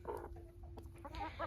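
Rooster in a chicken enclosure, short soft clucks and grumbling calls from fowl close by, with brief rustling around them.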